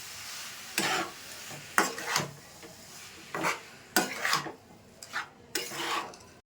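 Semolina batter mixed with jaggery for steamed bhapa pitha, a spoon scraping and stirring in a bowl in about seven separate close strokes, each a short gritty swish with brief pauses between.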